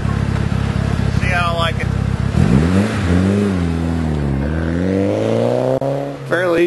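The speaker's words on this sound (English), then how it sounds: "We're going to take it for a little test drive" A Mitsubishi Evo VIII fitted with newly installed coilovers idles and then pulls away, its engine rising through the revs and swelling as it accelerates, with someone talking over the engine.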